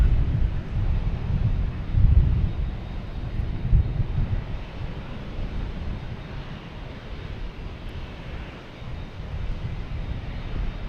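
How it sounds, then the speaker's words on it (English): A United Airlines Airbus A319 arriving at Boston Logan on an overcast evening, heard as a steady low engine rumble with broadband roar and some wind buffeting, moderately loud and sustained with no talk. "United Airlines and A319 coming in from Newark"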